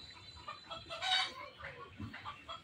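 A hen that has just laid an egg clucks in a string of close, moderately loud bursts, peaking in a sharp squawk near the middle, with no speech.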